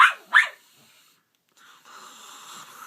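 A dog gives two sharp, close barks in quick succession at the start, followed by quiet room tone and a faint hum.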